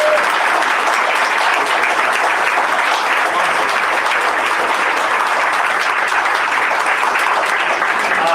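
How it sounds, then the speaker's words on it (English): Steady, sustained applause from a large crowd at a district attorney candidate forum, dense clapping that fills the whole stretch at an even, loud level without letting up. "have another big round of applause, everybody up there."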